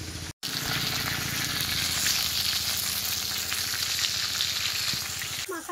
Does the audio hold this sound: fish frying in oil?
yes